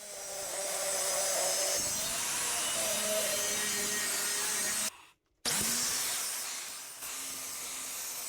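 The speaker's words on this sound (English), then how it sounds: "Removing another 5 inches from the other section of the PTO shaft so that I can maintain my total minimum" A section is cut from a tractor PTO shaft, producing a continuous loud, close power-tool cutting whine with grinding texture, a brief stop partway through, then more cutting.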